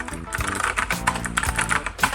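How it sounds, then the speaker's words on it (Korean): Typing on a MANIC X50 optical-switch keyboard, a quick irregular run of crisp clicky keystrokes close to the microphone, with no talking. "이 녀석 같은 경우에는 기계식 키보드의 청축 소리와 굉장히 유사합니다."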